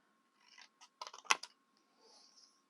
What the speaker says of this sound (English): Just cut that piece off.